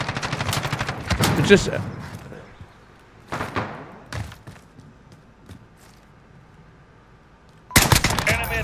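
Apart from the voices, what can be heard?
SKS rifle gunfire in video game Modern Warfare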